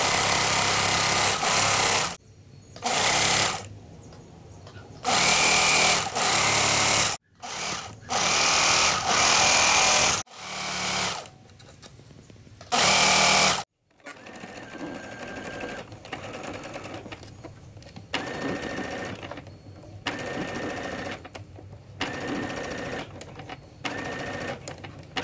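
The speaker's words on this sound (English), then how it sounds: "I'm just gonna go ahead and start sewing the panty" A sewing machine stitches the seams of high-waist panties in a home studio, loud close bursts of rapid whirring broken by short pauses, then a steadier, quieter run.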